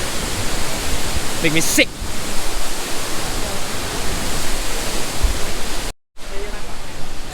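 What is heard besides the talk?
Klang Si waterfall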